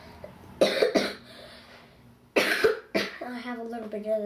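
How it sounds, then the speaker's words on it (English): A person coughs in two short bursts, one early and one midway, each close and fairly loud, with quieter voice sounds and some speech afterward. "I have a little bit of a cough"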